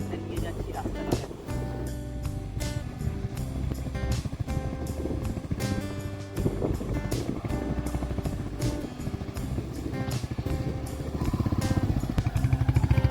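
A Royal Enfield motorcycle rides along a sandy road near Puri with steady engine drone under wind buffeting and music-like tonal layers, loud and continuous throughout with no clear pauses.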